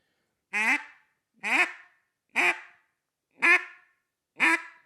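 Five short, evenly spaced quacks from a duck call, each a brief nasal honk separated by silence, close and clear.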